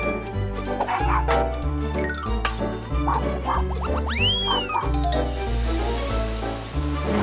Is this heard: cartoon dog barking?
yes